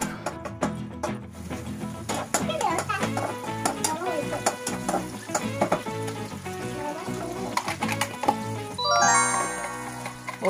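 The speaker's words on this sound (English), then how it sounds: "we will be frying the onion on a low flame and we don't have to turn it black or brownish" Onion fries in a pan over a low flame with a soft steady sizzle, punctuated by stirring scrapes and clinks of a utensil close by, with background music running underneath.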